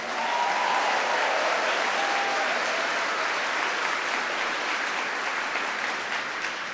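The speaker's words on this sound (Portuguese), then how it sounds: "eu e você que estamos aplaudindo" Applause from a church congregation, dense and steady clapping filling the room at close range for the whole stretch, with no talk over it.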